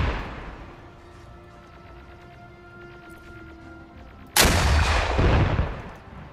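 A single loud in-game gunshot from Arma 3 cracks out near the end, after a stretch of quiet night-time ambience, its boom ringing briefly before fading.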